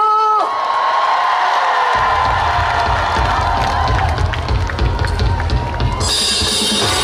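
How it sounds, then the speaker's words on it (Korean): A crowd at a Korean seaside village festival cheers, whoops and claps at an outdoor stage performance. The loud, continuous roar of voices carries over amplified sound, with a bright burst near the end. "박수 주시고 함성 주시고"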